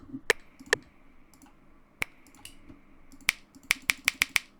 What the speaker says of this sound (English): For the clap, I used my snap.